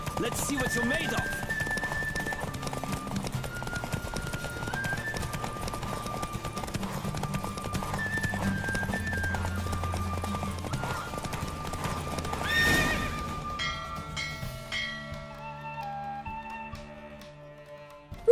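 Horse galloping in The Witcher 3: Wild Hunt during a race, steady clip-clop hoofbeats under music and a few spoken lines, with a whinny near the end as the race finishes.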